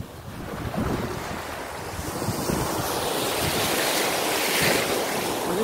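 Surf washing onto a Florida beach under strong wind buffeting the microphone, a steady broad rushing roar that swells slightly toward the end, with no voices.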